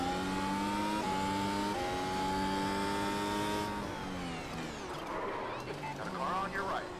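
The Mercedes AMG W12 Formula 1 car in the iRacing simulator screams as its engine pitch climbs through the revs, drops at an upshift and builds again, with other cars roaring nearby toward the end.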